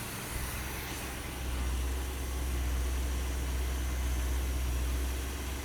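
Brand new car with only 64 miles on it idles steadily, a smooth low engine hum with a faint hiss, even and unbroken from start to finish, with no voices.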